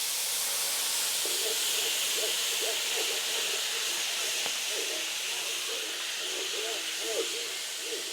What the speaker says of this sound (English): We're gonna go ahead and deglaze with some dry white wine.